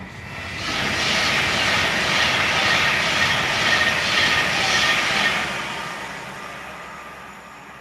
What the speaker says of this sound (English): there's your Pendolino